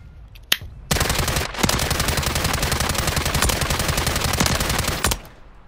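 Rapid automatic gunfire from a video game, sustained bursts lasting about four seconds after a single opening shot, loud and crisp with no talking over it.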